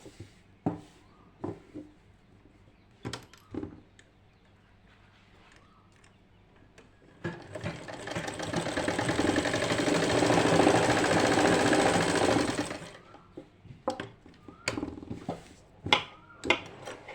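A sewing machine runs steadily for about five seconds, stitching slanted pleats on a lined kameez, with scattered taps and clicks before and after the run.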